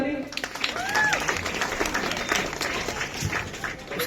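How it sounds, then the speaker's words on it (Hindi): Audience applause fills a school award ceremony with a sustained, fairly close round of clapping, while a few voices and a brief whistle-like tone sound over it. "जोरदार ताली"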